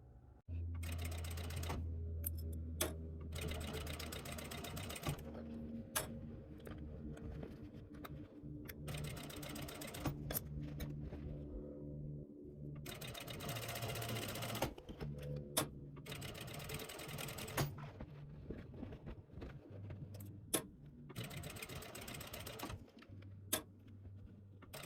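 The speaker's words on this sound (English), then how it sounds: "we will go back to the sewing machine and we will top stitch" A sewing machine top stitching a fabric tote bag in fast bursts of mechanical whirring and needle clatter. The bursts are separated by short pauses and occasional clicks and taps, close and moderately loud, with no talking.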